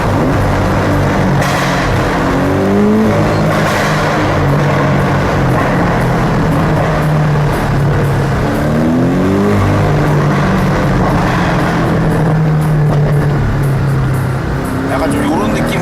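A Porsche 718 Boxster GTS engine revs up and down repeatedly in low gear, rising and falling pitch sweeps with a steady loud drone, while people talk inside the car throughout.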